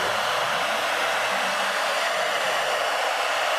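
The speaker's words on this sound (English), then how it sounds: "I'm going to turn on the hair dryer." A hair dryer blows air steadily and loudly for the whole stretch, a constant broad whoosh used to float a pumpkin decoration in a Halloween science experiment, with no talking over it.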